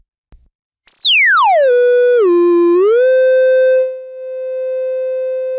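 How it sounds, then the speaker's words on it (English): A Make Noise 0-Coast filter pushed to maximum resonance self-oscillates into a loud, pure sine tone that sweeps swiftly down from a high pitch, dips lower, then rises slightly and holds steady, with no voices. "now we have a sine wave, but generating by the VCF, by the filter"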